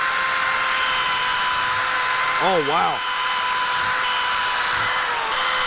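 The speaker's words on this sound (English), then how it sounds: "All right, let's try to drill some holes." A cordless drill powered by a Bluetti EB3A portable power station runs steadily while drilling holes, giving a continuous close whir with a faint electrical hum. A person briefly exclaims midway.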